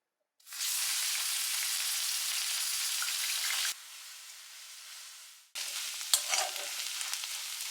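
Grated onion sizzles loudly as it hits hot oil in a pan, a dense frying hiss that drops in level partway through, then picks up again with spattering and a few clinks.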